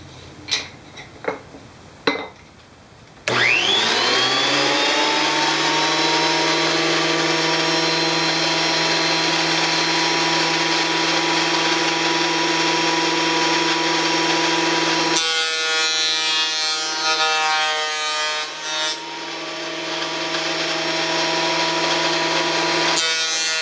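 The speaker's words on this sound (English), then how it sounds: "got my planer set up, and I'm going to put my earmuffs on. It's going to get kind of loud" A loud electric planer motor whines steadily after a few quick knocks, its tone dropping and roughening as it bites into cherry wood partway through.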